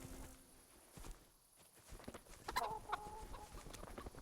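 Chickens cluck and squawk in a medieval village scene from the game Kingdom Come: Deliverance, a few scattered calls at moderate distance over faint ambient noise and soft footsteps, with no talking.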